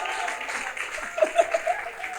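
Church congregation clapping and cheering at a thanksgiving service, a short burst of applause with scattered voices and laughter mixed in, fairly close and lively.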